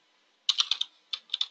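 Keys clatter on a computer keyboard as a VPN server name is typed: one quick burst of four or five crisp strokes, a short pause, then another fast run, all close and clear with no talking.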